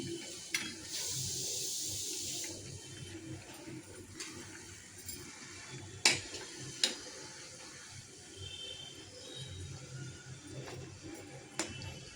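Sabudana vada frying in hot oil, a soft steady sizzle with occasional clinks of a utensil against the pan, fairly quiet and with no voices.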